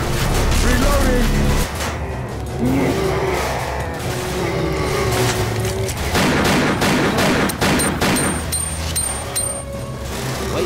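Gunfire fills a Left 4 Dead 2 firefight against a charger, with dense, loud bursts of shots and rattling weapons crowding together, and excited voices shout over the noise.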